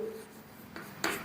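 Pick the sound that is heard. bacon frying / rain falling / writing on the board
writing on the board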